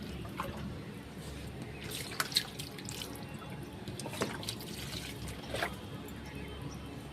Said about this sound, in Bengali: আর দিয়ে দেখো জবা গাছে জল দিচ্ছি